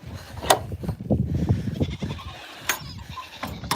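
Goats on an Indiana farm give several short bleats amid rustling and shuffling in a pen, fairly close but soft, with no one speaking.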